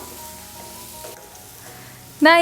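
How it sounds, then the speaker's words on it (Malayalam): Masala sautéing in a pan for Mughlai chicken handi gives a steady close sizzle throughout, ending in a brief louder clatter or scrape. "നമ്മുടെ ഈ മസാലയുടെയൊക്കെ ആ ഒരു പച്ച ടേസ്റ്റ് മാറുന്നവരെ മാത്രം ഒന്ന് വഴറ്റി കൊടുത്താൽ മതിയാവും"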